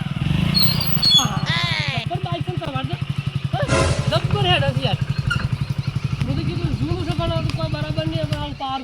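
A motorcycle engine runs close by with a steady rapid putter, holding throughout while people talk loudly over it.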